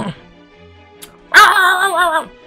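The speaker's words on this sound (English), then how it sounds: "Pugsley menacingly barks at him" Pugsley, a dog in the Choices game Desire & Decorum, gives one sharp, close bark followed by a short drawn-out growling yelp, after a quiet lead-in.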